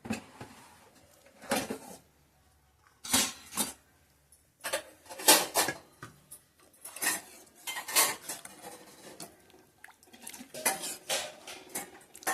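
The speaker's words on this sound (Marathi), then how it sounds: "आपण पुन्हा एकदा ढवून घ्यायचं" A spoon stirs green pea curry in a metal pot, making intermittent clinks and scrapes of metal on metal in uneven bursts with short pauses between, close and fairly quiet.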